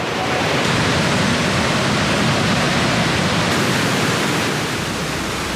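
A steady, powerful roar of the Rhine Falls at Schaffhausen, Switzerland, a 150 m wide, 23 m high waterfall, dense and unbroken throughout, loud and close with no voices.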